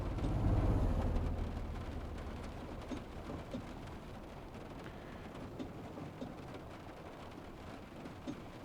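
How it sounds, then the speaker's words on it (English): Steady heavy rain in the video game Train Simulator Classic pours down with a dense hiss and scattered drops, a louder rumbling swell at the start fading into continuous rainfall. "I'm just listening to the rain. It actually sounds real."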